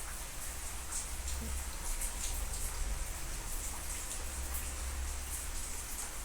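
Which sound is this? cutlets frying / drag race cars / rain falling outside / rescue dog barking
rain falling outside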